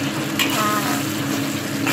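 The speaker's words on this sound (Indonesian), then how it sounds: "Dan tunggu sampai mendidih dulu ini bumbunya." Spice paste sauce for balado tofu, tempeh and quail eggs, with a little water added, simmering in a pan; a dense, continuous sizzling bubble, close and steady.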